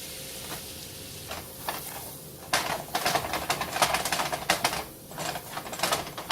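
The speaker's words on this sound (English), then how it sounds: "I'm going to put 4 tablespoons of butter in. Let that melt." Butter melts and sizzles in a pan as flour goes in: a soft, steady crackle with irregular louder spatters and stirring clicks, close up and without talk.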